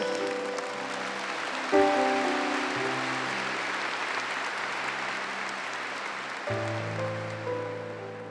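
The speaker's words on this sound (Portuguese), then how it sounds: "Aplauda o Senhor na Eucaristia" Continuous applause from a large crowd, broad and steady, with sustained organ or keyboard chords ringing underneath.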